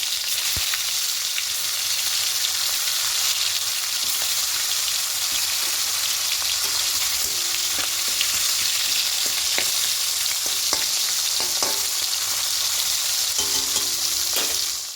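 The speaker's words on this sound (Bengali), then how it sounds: "হালকা একটু লাল করে ভেজে নেব মাথাগুলো" Steady oil sizzling and crackling from frying hilsa fish heads, continuous and close, with occasional sharper pops and a faint stirring clatter.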